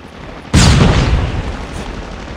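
A sudden loud boom-like burst of gunfire in the Call of Duty Mobile battle royale game hits near the half-second mark and rolls on as a dense, sustained rumble of shots and blast noise.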